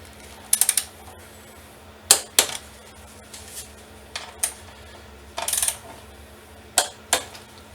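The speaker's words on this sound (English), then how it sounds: "now these pinch bolts get torqued to 16 foot-pounds." Pinch bolts on the front wheel of a Honda CB500X motorcycle are tightened with a torque wrench, giving several short, sharp metallic clicks spaced a second or so apart, close by against a low steady background hum.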